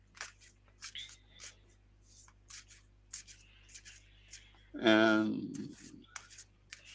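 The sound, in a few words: shuffling tarot cards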